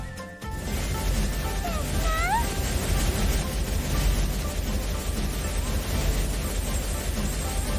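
Fish-shooting arcade video game in play: a dense, steady wash of electronic shots and blasts with a few rising whistle-like tones, loud and continuous throughout.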